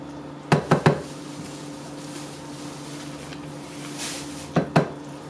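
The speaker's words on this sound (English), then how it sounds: "I am just mixing it in with that crema and mayo mix, and lime juice, and garlic salt" A few quick clinks of a utensil against a bowl while corn is stirred with crema, mayo, lime juice and garlic salt, in two short clusters over a quiet background hum.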